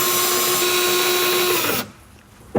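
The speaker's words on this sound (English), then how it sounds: "Drill it into position." A power drill whines steadily at high speed for nearly two seconds while drilling a door stop into position, then stops abruptly, followed by a brief knock.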